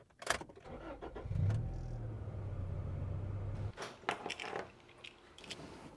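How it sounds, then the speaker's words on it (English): A Honda Integra starts up and idles for a few seconds before shutting off, with the low engine hum steady and close, framed by door thuds and rustling movement around the car. "First, I just have to move the Integra."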